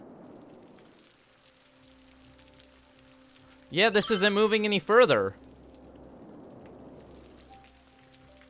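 Soft rain in the city-building game Cities Skylines, a faint steady patter with quiet swells at either end, while someone talks briefly in the middle.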